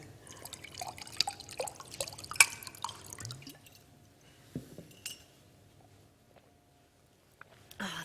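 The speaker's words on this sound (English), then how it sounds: "I have to just have a drink of water" Someone pours and sips a drink of water before a talk: clinking glass, small splashes and drips, then quiet, close-up handling sounds fading toward silence.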